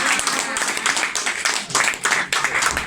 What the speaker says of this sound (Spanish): Fuerte el aplauso para Alejandro Concha